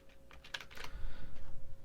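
A few quick clicks on a computer keyboard as a spreadsheet formula is entered, close and fairly clear, followed by a short run of soft rustling, with no speech.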